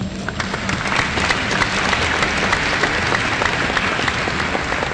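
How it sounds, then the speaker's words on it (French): A church congregation at a thanksgiving service applauds, a dense, loud, steady wash of many hands clapping together that holds evenly throughout. "Je vous prie pour que nous puissions l'applaudir, Monseigneur."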